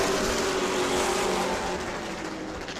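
Pro trucks racing around the track in the first lap of a regular-season race, a loud continuous engine roar that stays steady and dense throughout, slowly easing off toward the end, with no talk.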